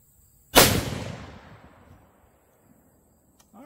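Single sharp shot from a Rossi 95 Trapper lever-action rifle, a loud close crack followed by a long fading echo tail, with quiet around it.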